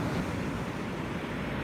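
Ocean waves wash onto a beach in a steady, continuous roar of surf with wind noise on the microphone. There are no distinct breaks, and no voices are heard.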